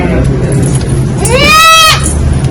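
A mother goat with two newborn kids gives one loud, clear, wavering bleat close by, rising and then falling, over a constant low background hum.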